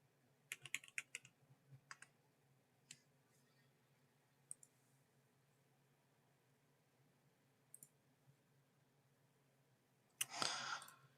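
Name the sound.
typing on a computer keyboard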